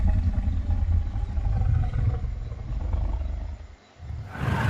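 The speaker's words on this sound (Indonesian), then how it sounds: "Kemudian harimau itu mendatangi Sukyi, melihatnya dan melewatinya begitu saja" A tiger roars in a film scene, a loud, sustained growling roar filling the clip, briefly dropping away near the end before another harsh burst begins.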